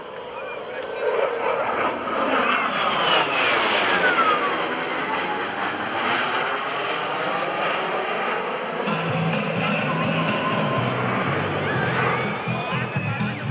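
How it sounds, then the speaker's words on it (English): An F/A-18F Super Hornet flies an inverted, low-noise whisper pass at an airshow. A broad, continuous jet roar swells and shifts as the jet goes by, heard at a distance against outdoor crowd ambience. "we're going to see just how quiet the A-18 Super Hornet can be as they perform the inverted"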